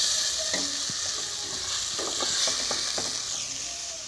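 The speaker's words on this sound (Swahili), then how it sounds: "Naona kidogo inaenda vizuri, naendelea kujikaanga." Spices frying and being stirred in a pan for coconut spinach, a steady close sizzle with scraping stir strokes throughout.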